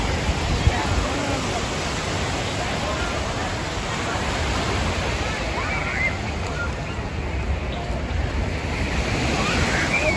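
Ocean surf at a crowded Waikiki beach in Hawaii, a loud continuous wash of waves with wind buffeting the microphone, steady throughout with a faint hint of voices beneath.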